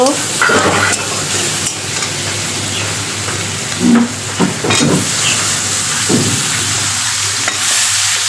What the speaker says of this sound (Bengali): এখন চিংড়িটা ভাজা শেষ, আমি লাউটা এর মধ্যে দিয়ে দিব।